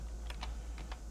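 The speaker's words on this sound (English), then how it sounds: "You'll come up to the navigation bar and type" Quiet taps on a computer keyboard as a web address is typed into a browser navigation bar, a few light clicks in two short pairs, close and faint.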